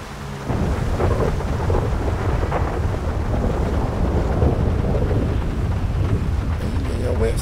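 Steady heavy rain pours with deep rolling thunder rumbling underneath in GTA V, a dense continuous storm sound with no talking.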